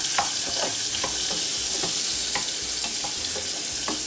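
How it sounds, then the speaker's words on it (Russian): Pork fat (salo) fries in a pan with a steady, close sizzle and crackle, punctuated by regular scraping stirs, and no one speaks. "итак, у нас сало хорошо жарится"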